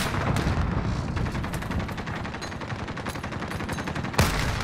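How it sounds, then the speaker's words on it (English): Dense, continuous gunfire in a Call of Duty match, rapid overlapping shots and bursts rattling steadily throughout, with a sharper loud crack near the end. "This guy's shooting at me."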